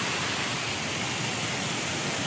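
Waterfall at Ricketts Glen, heard from a rock above it: a steady, loud, broadband rush of falling water that fills the whole clip without pause, no voices.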